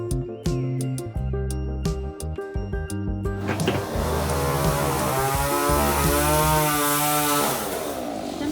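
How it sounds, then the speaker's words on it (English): A neighbor's chainsaw cuts down a tree, a loud, steady, buzzing engine whine that rises and falls in pitch as it revs. It comes in after a few seconds of tonal, music-like sound. "So our neighbor has decided to trim his, I think he's cutting a whole tree down."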